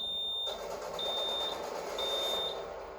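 Electronic alarm in a Dead Space game sequence, sounding as a steady series of short, high beeps repeating about every half second over a dense, rumbling background.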